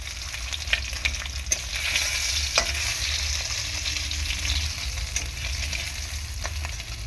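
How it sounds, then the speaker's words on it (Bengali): Silver carp fish fries in a pan with a constant crackling sizzle, punctuated by a few sharp clicks and scrapes from stirring, close and with no talking. "দেখো মোটামুটি মাছ ভাজা হয়ে গিয়েছে এটুকু একটু ভালো করে ভেজে নিয়েছি"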